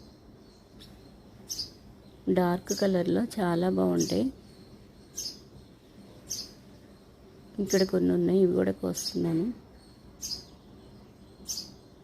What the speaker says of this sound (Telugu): బర్డ్స్ చూడండి ఇప్పుడే వచ్చినాయి, మొక్కల దగ్గరే వాలిపోయి బాగా సౌండ్ చేస్తూ ఉన్నాయి